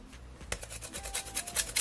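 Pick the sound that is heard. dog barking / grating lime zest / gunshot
grating lime zest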